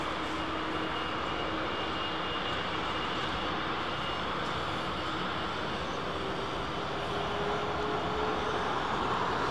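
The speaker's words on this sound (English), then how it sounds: "see how long the Dreamliner takes on its takeoff roll" A Boeing 787 Dreamliner rolls for takeoff at London Heathrow, its jet engines a loud, steady roar that holds the whole stretch with no voices over it.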